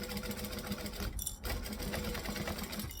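Sewing machine top stitching through thick fabric 1/8 inch from the edge, a steady close mechanical whir that runs continuously with one brief pause near the middle.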